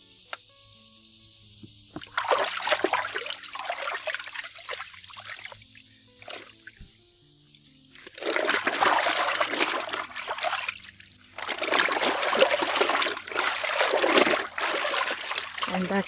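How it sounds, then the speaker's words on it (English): Soapy water splashes and trickles as hand-washed white clothes are squeezed out, several wet bursts of dribbling and sloshing, close and fairly loud, separated by short pauses. "And then just squeeze this out. Make sure we don't have any soapy water left in."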